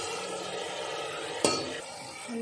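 Mutton keema stir-frying in a pan gives a steady soft sizzle, with one sharp scrape or clink of a spoon against the pan midway, fairly quiet and close.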